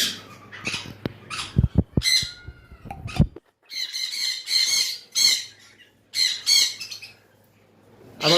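High-mutation lovebirds kept for sale let out harsh, close squawks and chirps in short bursts with brief quiet gaps, plus a few sharp clicks and a faint low hum early on.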